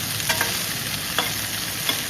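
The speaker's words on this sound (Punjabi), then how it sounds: "ਹੁਣ ਆਪਾਂ ਇਧਰ ਭਿੰਡੀਆਂ ਪਾਤੀਆਂ ਇਹਨਾਂ ਨੂੰ ਇਹਦੇ ਜਲਦੀ ਜਲਦੀ ਕੜਛੀ ਮਾਰ ਕੇ ਮਿਕਸ ਕਰ ਦਿੰਨੇ ਆ" Okra frying in a wok while a ladle stirs it quickly, giving a loud, steady sizzle with a few sharp scraping clinks spread through it, heard alone.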